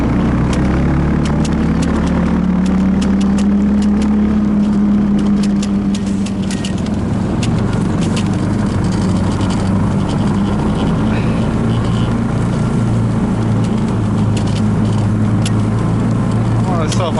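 A Tofalar Long motorized snow tow engine drones steadily while being ridden, loud and continuous throughout, with a slight shift in pitch early on and wind buffeting over the top.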